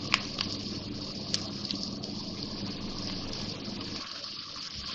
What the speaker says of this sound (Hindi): अब इसमें मैं लहसुन अदरक का पेस्ट डाल रही हूँ।